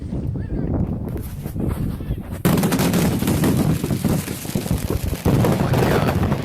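Fireworks fired at people during a failed show crackle and bang in rapid, dense bursts, like heavy gunfire, loud and close with a few sharper onsets, and voices are faintly mixed in.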